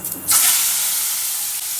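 Taro stems drop into hot oil in a kadai with dried chili and nigella seeds, setting off a sudden loud hiss that settles into a steady, close sizzle on its own.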